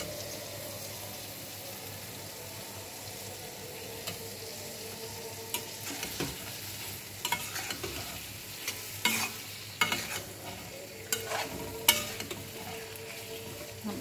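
Chopped tomatoes frying with spices in a pan, a low quiet sizzle at first, then rising clatter and scraping of a spoon stirring the mixture, close by.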